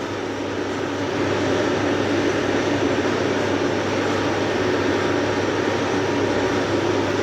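A lathe bores a bushing seat in a worn Hitachi excavator trapezoid linkage part at low speed, giving a steady, loud, unbroken cutting drone with a constant hum beneath it.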